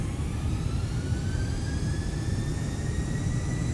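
An airliner's jet engines spool up on the takeoff roll at London Stansted, a loud, steady roar with a rising whine, heard from inside the cabin with no talk.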